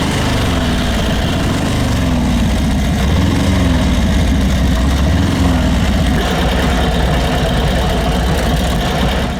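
A motorcycle engine running at a drag race, a loud close rough idle with uneven revving pulses and a heavy low rumble, steady throughout with no talking.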